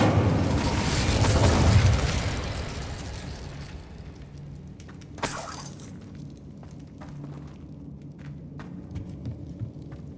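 An Incendio fire spell cast in the Hogwarts Legacy video game erupts in a loud fiery whoosh with shattering crackle, then fades into quieter rumbling and small pops.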